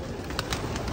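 Pigeons at an opened coop door give brief, fairly faint coos and wing-flutter bursts over a steady background hiss, with no voices present.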